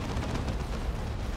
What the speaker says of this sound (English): Another shot on the Avatar.